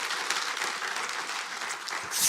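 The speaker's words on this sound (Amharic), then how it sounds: "አጨብጭቡ፣ እንዳውም አይበቃም።" Congregation clapping in a church during a pastor's sermon, a sustained, even burst of many hands from a sizable crowd, swelling slightly at the end.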